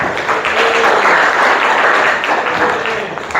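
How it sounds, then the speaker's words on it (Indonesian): A classroom group claps for the presenting group, giving a short burst of loud, close, dense applause that fades slightly at the end. "Ya, tepuk tangan buat kelompok."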